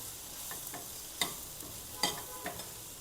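Turmeric and sambar powder sauté in hot oil for narthangai pachadi, a soft hiss with a few scattered spoon taps and scrapes close by.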